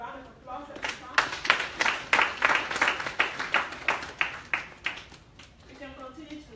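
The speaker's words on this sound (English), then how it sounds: "Can we give her a round of applause at this time?" An audience at a women's summit, Every Woman Matters UK, claps in a strong, rhythmic beat of sharp, even pulses. Brief voices are heard just before and after the clapping.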